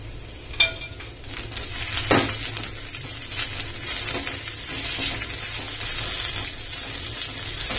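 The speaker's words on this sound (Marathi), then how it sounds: "तुम्ही बघू शकता आपला कांदा छान गोल्डन फ्राय झालेला आहे।" Onion, garlic, coriander and ginger fry in a pan, giving a steady close sizzle with a few sharp clinks of a utensil against the pan early on.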